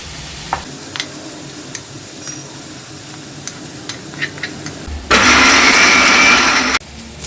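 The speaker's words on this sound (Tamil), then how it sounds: "வேகிற நேரத்தில் நம்ம வந்து இந்த மசாலாவை அரைச்சிக்க போகிறோம்." A mixer grinder whirs loudly for under two seconds, grinding masala paste for a Chettinad paneer gravy, after a stretch of faint kitchen clicks and taps; the grinding stops abruptly.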